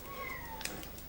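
A house cat meows once in a soft, drawn-out call against a steady low background hum, moderately close indoors, with no talking.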